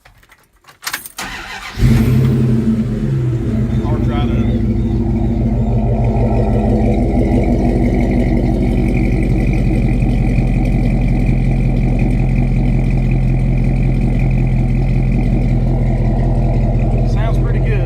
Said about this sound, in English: I'll let you hear what this 318 sounds like with 4-inch